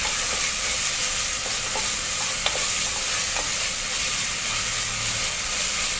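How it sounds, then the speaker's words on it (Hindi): Ginger-garlic paste fries in a pan, a steady close sizzle running the whole time with scattered clinks and scrapes of stirring and no voices. "अदरक लहसुन को थोड़ा भूनेंगे हम 2 से 3 मिनट तक का।"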